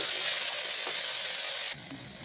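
Chopped tomato sizzles in hot oil alongside well-browned onions in a pan, a steady close broadband fry that drops to a softer, lower crackle near the end.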